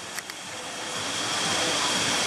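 Water rushes steadily at a water park lazy river, a broad continuous wash that grows slightly louder and fuller over a couple of seconds, with a few faint taps near the start.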